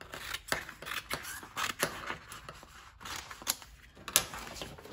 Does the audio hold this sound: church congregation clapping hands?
no